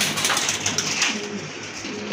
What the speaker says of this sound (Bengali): ছটপটে করতেছে কবুতর